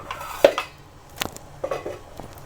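Clanks of a metal lid being set onto a pot of Hyderabadi chicken dum biryani with basmati rice: one sharp knock, then a couple of softer settling taps, close by and quiet, with no talking.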